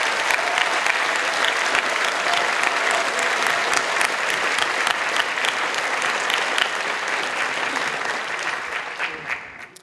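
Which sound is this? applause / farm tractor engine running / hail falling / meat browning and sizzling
applause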